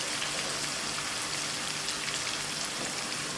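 Onions frying with cumin seeds in a pan, a dense, even sizzle and crackle throughout, close and steady with no talk.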